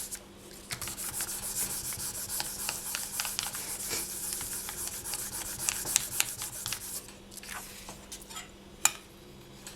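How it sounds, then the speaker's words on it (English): A sheet of polymer clay is burnished for scrappy beads with quick, close rubbing strokes, a soft continuous scraping texture broken by a few sharper ticks near the end. "Then I will give it a very quick burnish again."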